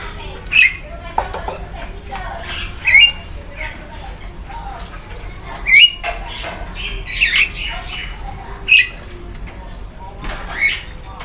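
A ciblek sawah songbird in its cage gives short chirps every couple of seconds amid fluttering and cage rustles, close and fairly clear over a low background hum.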